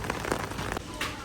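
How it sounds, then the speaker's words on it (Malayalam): Heavy rain falling in Switzerland, a dense close patter and hiss of drops on surfaces with brief crackly spatters, continuous across the moment. "ഇവിടെ മഴ നല്ല കൂടിയേ."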